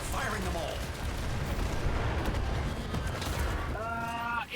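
Gunfire in the video game Warframe: a dense, continuous roar of shots and explosions, loud and sustained, with a brief voice-like tone near the start and the end.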